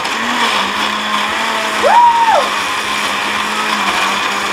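A kitchen blender whirs steadily while blending a fruit smoothie, its motor rising briefly in pitch near the middle as the load shifts, loud and close with no talking.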